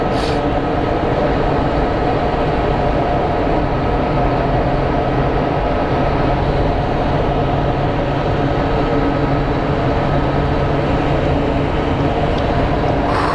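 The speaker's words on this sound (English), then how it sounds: "we're going to have Southwest 3562, the Maryland 1 livery coming in" A Southwest airliner in Maryland One livery lands at Phoenix Sky Harbor, its steady, loud engine roar sustained throughout with no pauses, a broad rumbling wash filling the whole stretch.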